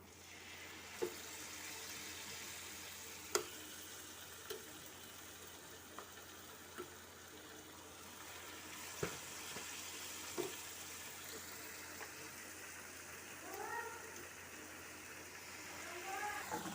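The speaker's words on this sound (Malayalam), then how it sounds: "അപ്പോൾ പഴമൊക്കെ ഇട്ട് കൊടുത്തിട്ടുണ്ട് കേട്ടോ വെളിച്ചെണ്ണയിലേക്ക്" Banana fritters (pazham pori) fry in coconut oil, giving a faint, steady bubbling sizzle with scattered small pops and clicks, quiet and continuous throughout.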